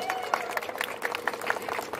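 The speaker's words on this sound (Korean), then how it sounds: "동의하시면 박수를 좀 치셔도 돼요." Crowd at an outdoor political campaign rally in Hongdae, Seoul applauds briefly, with dense scattered clapping and a murmur of voices through the short burst.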